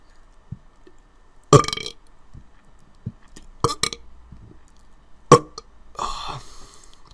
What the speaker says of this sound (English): I'll come back with the first dry burp.